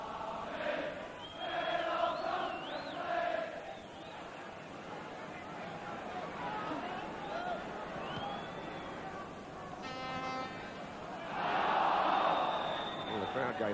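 A football crowd at Anfield during Liverpool v Benfica in 1984 roars and appeals for a handball, a broad sustained wash of voices that swells in waves and peaks near the end, with no clear single speaker.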